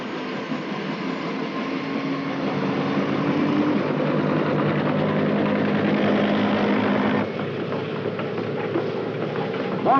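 Steady, continuous mechanical roar of Army helicopters operating around a Navy amphibious assault ship off Vietnam in 1967, loud and unbroken with rotor and engine drone, slightly dropping in intensity toward the end.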